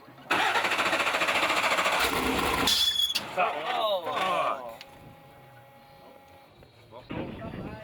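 An off-road race vehicle at the San Felipe 250 is started, and its pump seizes. The engine gives a loud, close, churning run of a few seconds before cutting out, followed by people talking.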